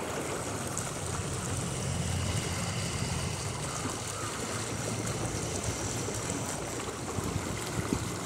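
A flooded monsoon-season river in Nuwakot rushes in a constant, broad roar of turbulent water, steady and fairly loud, with no clear voices above it.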